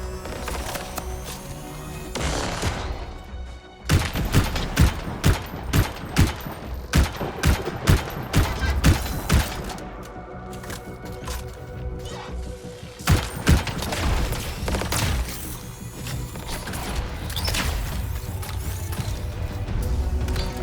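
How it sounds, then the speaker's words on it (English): A really large gun firing in the video game Anthem, rapid rhythmic bursts of heavy shots with mechanical clanks, loud and sustained through most of the stretch. "Time to show them that really large gun."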